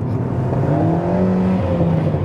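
Alpine A110 R engine howling loud and close, revving steadily upward in pitch over about two seconds, with no talking.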